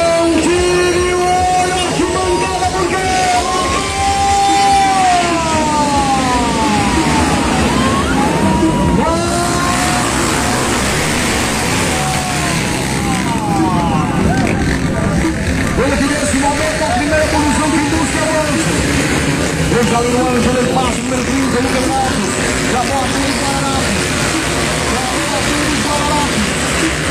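Several motocross motorcycle engines at a velocross race rev and whine at high pitch, rising and falling as they pass, with a commentator talking excitedly over the steady roar.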